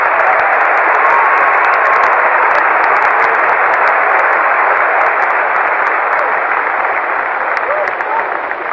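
A tennis crowd at the 1989 US Open final between Becker and Lendl applauds a point with loud, steady clapping that fills the whole stretch without a break.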